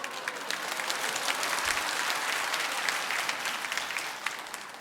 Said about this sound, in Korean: 박수 치니까 이상합니다.